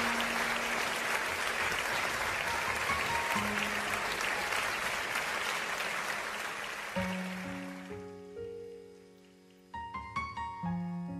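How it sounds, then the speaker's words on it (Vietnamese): A studio audience at a televised singing competition applauds to welcome a contestant onto the stage, loud dense clapping for about seven seconds that fades as sustained musical notes of the intro take over. "Hãy dành một tràng pháo tay thật lớn để đón chào sự xuất hiện của thí sinh Thúy Anh"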